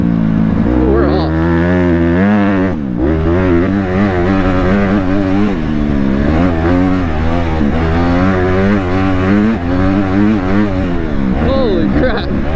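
A dirt bike engine revs hard while riding through mud at a lot, the pitch climbing and falling in repeated surges, loud and close throughout, with a brief dip in power partway.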